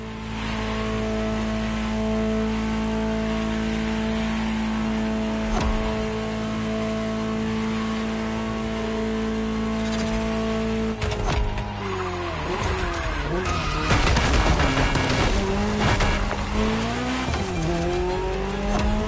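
A Ferrari GTO in The Crew Motorfest, its engine holding a steady droning idle-like tone before revving hard and rising, with tire squeal and skidding noise layered over the roaring, fluctuating engine toward the end.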